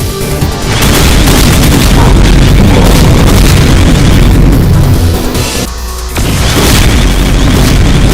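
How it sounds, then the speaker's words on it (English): Heavy railgun shots fired by a Cyberdemon in a Doom mod, a loud, dense, continuous barrage of booming blasts with a brief dip near the end before the roar resumes. "A rapid angle barrage spread of heavy railgun shots."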